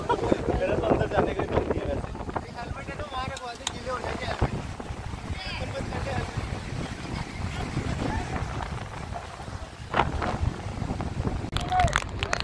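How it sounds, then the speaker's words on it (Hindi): Heavy rain falls during a motorbike trip on the road to Mini Goa. A constant rough roar is mixed with gusty wind buffeting the microphone, and someone talks over it. "क्योंकि बारिश बहुत ज्यादा तेज है"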